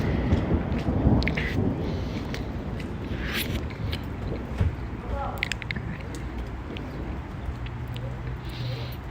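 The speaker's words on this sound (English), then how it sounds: "We're getting another thunderstorm now." Steady rain with low rumbling thunder rolling underneath during a severe thunderstorm on Long Island, a dense wash of noise throughout, with people talking faintly in the background.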